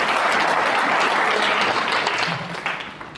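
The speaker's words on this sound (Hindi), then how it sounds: "तो एक बार तालियां बनती हैं आरसीएम के लिए।" Applause from a seminar audience at an RCM business event, dense and sustained, loud at first and then gradually fading toward the end.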